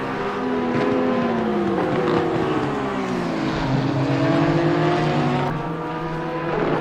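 Race car engines at Circuit Zandvoort in Assetto Corsa Competizione, including a McLaren pulling off, whining loudly with rising and falling pitch as gears change, continuous and near.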